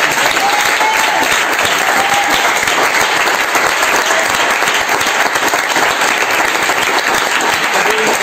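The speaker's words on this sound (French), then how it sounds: "Est-ce qu'on va acclamer Jésus pour ça?" A church congregation applauding to acclaim Jesus at a Bible seminar, with dense, sustained clapping from many hands filling the room evenly and loudly for several seconds, no clear speech.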